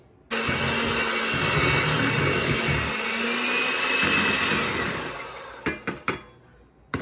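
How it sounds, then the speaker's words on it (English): A hand mixer whirs loudly and steadily through cake batter for about five seconds, then cuts off, followed by a few light knocks and taps. "So let me get this cake mix stirred up real quick."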